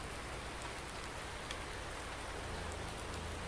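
Steady rain falls in Farming Simulator 19 during a snowy spring on the Felsbrunn map, a dense, even hiss of drops on surfaces that holds without a break and with no talking.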